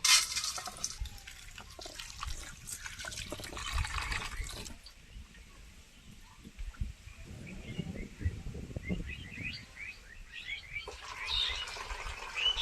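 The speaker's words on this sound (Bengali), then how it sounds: "এবার যে চিড়েটা নিয়েছি, চিড়েটাকে ভালো করে ধুয়ে নিতে হবে।" Flattened rice (chira) being rinsed by hand in water in a home kitchen, with running tap water and gentle splashing and sloshing close by, and a brief quieter pause midway.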